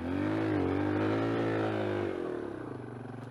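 Dirt bike engine revving hard on a muddy, frozen trail hill climb, a loud close rising then falling whine that eases off toward the end.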